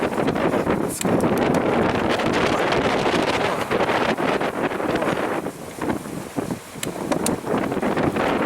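Strong, gusty wind buffets the microphone aboard a sailboat in a harbor during high wind, with roaring gusts rising and falling continuously and possible water slapping underneath; no voices.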